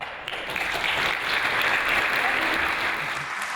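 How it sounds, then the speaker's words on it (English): Steady audience applause at a business summit on gender equality and diversity, a dense wash of many hands clapping that swells slightly and holds, with no talk over it. "round of applause for that"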